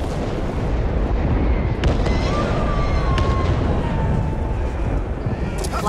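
A grenade explodes in the video game Back 4 Blood, a loud, sustained burst of roaring blast noise lasting several seconds with crackling debris, and a faint voice sits under the din.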